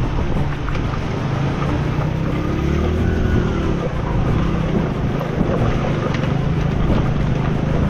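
A Hero Passion Pro motorcycle rides through a mountain water crossing on a trip to Ladakh, its engine droning steadily under a constant wash of splashing water and wind buffeting the microphone.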